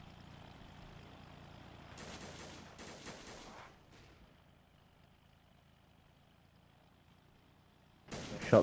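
Gunfire in the survival game DayZ during a night-time session, a burst of several sharp shots followed by quiet, then another loud volley at the end.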